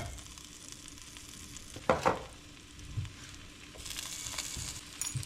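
Butter or vegetable spread sizzles quietly in a frying pan: a faint, steady hiss with a couple of soft clinks of a utensil partway through.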